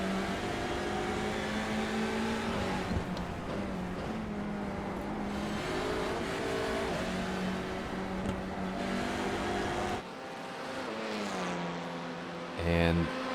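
Race cars lap the Belle Isle street circuit, a continuous droning engine note with rising and falling revs as several cars run close together, heard under a steady background without clear talk.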